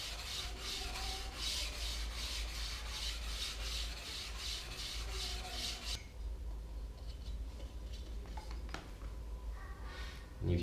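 An ice skate blade being polished during sharpening, heard as a steady, close rubbing and rasping with a fast regular pulse that stops partway through, leaving quieter scraping and faint clicks.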